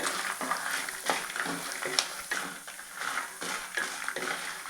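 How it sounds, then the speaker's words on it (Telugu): Coriander seeds and cumin crackle and sizzle in a pan with rapid irregular popping, while a utensil occasionally scrapes and stirs; a voice talks faintly beneath. "ఇప్పుడు ధనియాలు జీలకర్ర వేసుకుంటాను ఇప్పుడు అన్నీ ఫ్రై చేసుకున్నాము"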